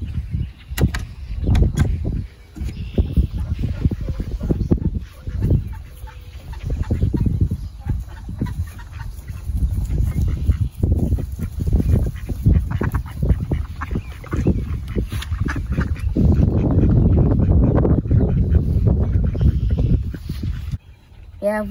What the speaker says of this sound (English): These are our 13-week-old roan ducks.